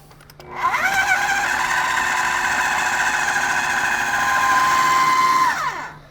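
Food processor blending smoked salmon pâté with mayonnaise and black pepper, a loud steady whirring motor that spins up, holds for about five seconds, then winds down, close with no talk.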